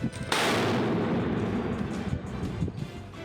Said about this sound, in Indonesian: Para pejuang nampak sedang menyiapkan peluru mortir dan meluncurkannya untuk menyerang pasukan IDF.